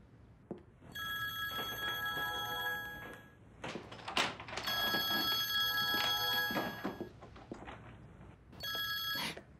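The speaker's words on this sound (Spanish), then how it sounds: "Ah, el teléfono." A telephone rings in a quiet room, several bright electronic ring bursts separated by short gaps and a few soft thuds, with no talking.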